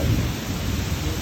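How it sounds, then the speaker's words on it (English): Steady rain and gusting wind fill a thunderstorm with a broad, even hiss and low rumble, a continuous moderate wash of noise. "And that rain and the wind?"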